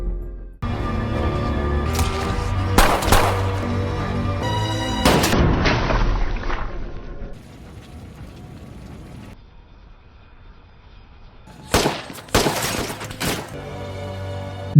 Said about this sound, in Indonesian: Tembakan Farhat, bocah pemberani andalan Amir, tepat menghantam leher Tyler.